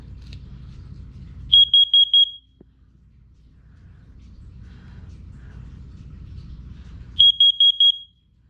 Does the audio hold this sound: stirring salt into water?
no